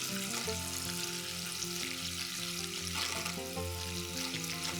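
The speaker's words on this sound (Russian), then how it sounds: "Начинаем взбивать и насыпаем 50 грамм сахара." Five eggs being whisked with sugar for a chocolate prune cake batter, a steady droning whir with a broad hiss that continues unbroken for the whole span.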